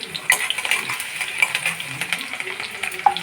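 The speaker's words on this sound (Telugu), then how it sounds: "ఇప్పుడైతే ఆనియన్స్ అయితే వేసుకున్నాను కదా ఇలా కట్ చేసుకొని ఇప్పుడు ఇది గోల్డెన్ కలర్ వచ్చేంత వరకు అయితే ఫ్రై చేసుకోవాలి" Sliced onions frying in oil until golden, heard close up as a light crackling sizzle with frequent spatula scrapes and taps against the pan, uneven and busy throughout.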